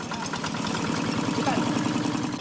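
A kuliglig hand tractor engine chugs on a flooded street in Hermosa, Bataan, its steady low pulses running continuously and fairly close, with a constant rumble throughout.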